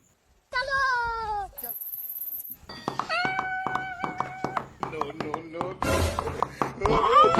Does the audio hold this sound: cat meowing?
yes